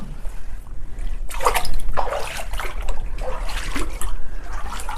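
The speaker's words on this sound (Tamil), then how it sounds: "தண்ணி ஓடி வருது பாருங்களேன்" Water running through a river cave in Tamil Nadu, a close, splashing, gurgling flow that surges and trickles unevenly throughout, echoing slightly with no voices over it.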